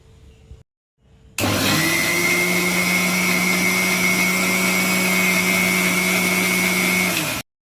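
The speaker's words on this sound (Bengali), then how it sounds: "এবার এটাকে আমি মিক্সিতে ব্লেন্ড করে নেব।" Kitchen mixer grinder blending a cream cheese and sugar mixture for a no-bake mango cheesecake, a loud steady motor whine running about six seconds close by, after a few brief clicks.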